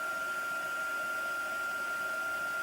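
Steady, close hair dryer blowing continuously with a high whine, used to dry white paint on a Dollar Tree frame during a chalk-painting craft project.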